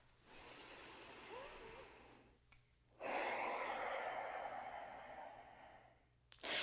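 Ujjayi breathing in a yoga practice, a slow inhale and exhale through the nose, each breath a soft airy rush lasting a few seconds, close and quiet with no talking.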